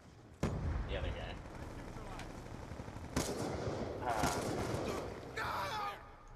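Sharp gunshots crack out in a Call of Duty-style shooter, a few spaced reports over steady game noise with a voice talking under the action.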